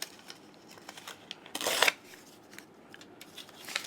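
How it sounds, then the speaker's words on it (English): Paper ripped along a ruler edge for a journal spine cover, a single short tearing burst standing out against quiet shuffling handling noise. "Then I'm going to just rip it with my ruler."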